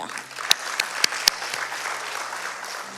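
A church congregation applauds at a Sunday service, a steady patter of clapping with a few sharper louder claps standing out, and a faint voice beneath it.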